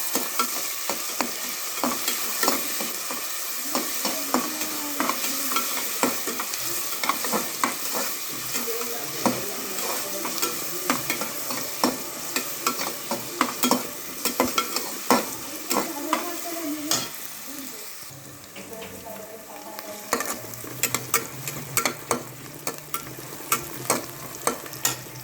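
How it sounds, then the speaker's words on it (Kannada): Chicken biryani ingredients fry in a pan and are stirred constantly, a steady loud sizzle broken by frequent scraping and clicking of the spoon at close range. "ಚೆನ್ನಾಗಿ ಫ್ರೈ ಮಾಡುವ."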